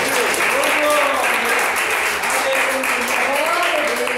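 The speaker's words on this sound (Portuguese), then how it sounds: "pode aplaudir o nome do Senhor" A church congregation applauds together during a Pentecostal service, a steady dense wash of clapping throughout, with a voice rising and falling over it.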